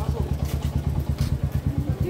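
A motorbike engine chugs with a steady rapid low thumping on a hill road in Darjeeling, fairly close and moderately loud, with a voice speaking over it.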